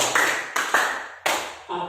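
A group of people at a school training session claps in sharp unison three times, each loud clap followed by a decaying tail, with a voice speaking at the end.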